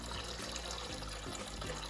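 Water pours and splashes continuously at close range during a fish tank cleaning and water change.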